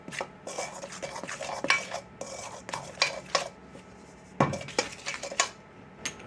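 Biscuit dry ingredients, flour, baking powder and sugar, are stirred in a bowl, with repeated irregular scraping and clinking of a utensil against the bowl, close and fairly quiet.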